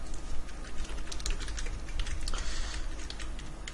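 Rapid, continuous keystrokes on a computer keyboard, close and fairly loud, a steady patter of clicks with no talking.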